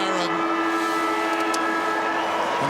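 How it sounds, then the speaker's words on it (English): Final siren sounds at an Australian football match between Sydney and the Eagles, a loud sustained steady tone holding throughout over stadium crowd noise. "Across the line, final siren."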